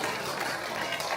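A church congregation at a Sunday service claps together in a dense, steady round of applause that fills the room.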